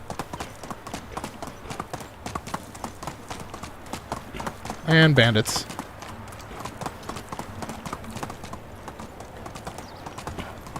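A horse gallops in Medieval Dynasty, its hooves pounding in a quick continuous rhythm up close, while someone briefly speaks partway through over the steady clatter.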